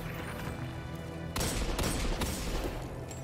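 Gunfire in the Destiny 2 video game, a dense burst of rapid shots and impacts that suddenly gets louder partway through over a constant background din of combat.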